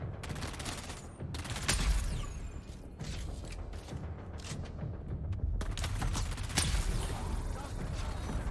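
Gunfire in Dune: Awakening: sharp shots and rattling bursts crack repeatedly over a dense, noisy mechanical backdrop, loud and near throughout.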